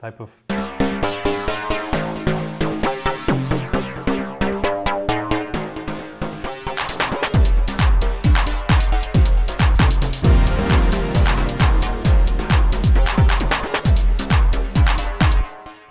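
A bright, metallic OB-Xa V synthesizer using cross-modulation plays rapid plucked notes, then a deep pulsing bass joins halfway, making a dense, loud electronic pattern.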